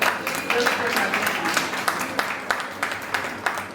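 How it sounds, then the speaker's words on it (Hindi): An audience at an annual literary award ceremony applauds steadily, a dense wash of many hands clapping at even loudness throughout. "एक बार जोरदार तालियां"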